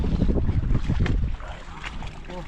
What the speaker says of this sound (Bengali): ওয়েদারের অবস্থা খুবই খারাপ প্রচণ্ড কিন্তু হাওয়া হচ্ছে নদীতে